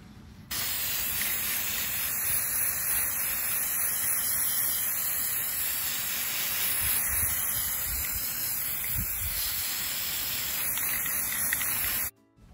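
A long continuous hiss of an aerosol spray can painting a compass outdoors, steady and close, running for about eleven seconds before cutting off abruptly.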